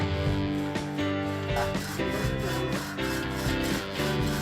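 Two people work a one-meter hand saw through a large piece of albasia wood, producing loud, close, rhythmic rasping strokes in a steady back-and-forth pattern with no voices.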